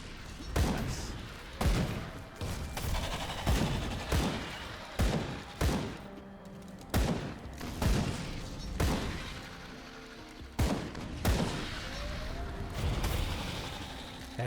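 Repeated grenade blasts and combat bursts from the action RPG Grim Dawn, played as a Demolitionist, sharp broadband booms landing every second or so over a dense, continuous bed of game noise and music.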